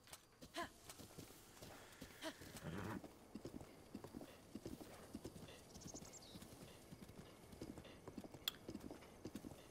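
Horse hooves clip-clop steadily at a trot in Zelda Breath of the Wild, close and even, with a brief whinny and scattered game sound effects over the rhythm.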